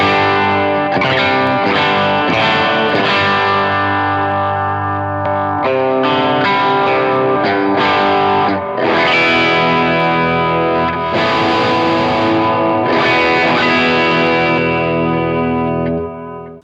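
An electric guitar plays loud, heavily distorted chords and riffs through a Strymon Iridium on its Plexi amp model with every control turned to maximum, ringing continuously for about sixteen seconds.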